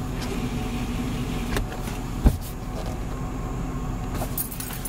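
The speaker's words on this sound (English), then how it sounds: "If I back this off a tiny bit, so you can hear engine noise." A van's engine runs with the cabin not fully sealed, a steady faint low hum throughout, broken once midway by a brief sharp click.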